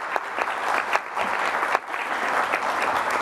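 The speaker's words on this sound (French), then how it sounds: "on va faire un tonnerre d'applaudissements, s'il vous plaît, pour mon invité d'honneur" A studio audience at a wellness show in Vendée gives a round of applause for the guest of honour, Sébastien Simon, with many hands clapping steadily and a few sharper claps standing out.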